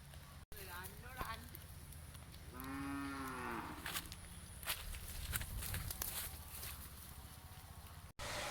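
A young bull calf of about 75–80 kg lets out one long, deep moo partway through, amid rustling, shuffling noises and faint background voices outdoors in rainy weather.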